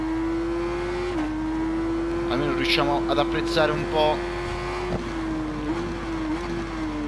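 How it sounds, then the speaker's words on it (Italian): Motorcycle engine in the racing video game Ride 4, a superbike, holding a steady drone with slight pitch shifts throughout, running under continuous talk. "Adesso sentiamo solo il motore della nostra moto, perché gli altri sono lontani"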